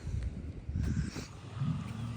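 A low, rumbling roar from a huge animatronic dinosaur at a dinosaur park in Odesa, loud and close, swelling briefly and fading within a couple of seconds.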